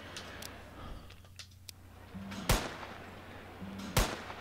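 Two sharp sniper rifle shots in a ski sniper video game, well spaced and fairly loud, each a sudden crack with a short tail over a quiet snowy backdrop.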